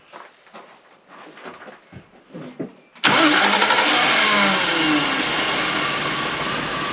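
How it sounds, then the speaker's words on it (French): A BMW E36 325i fitted with an M3 intake cranks briefly and catches, then settles into a steady, loud idle up close after a few seconds of faint clatter. "Donc voilà, le moteur est démarré."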